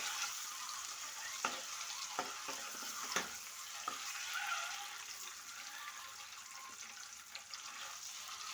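Eggs frying in a pan with turmeric for an egg and dry fish curry, a steady soft sizzle with a few louder crackles and stirring taps, heard alone without talk.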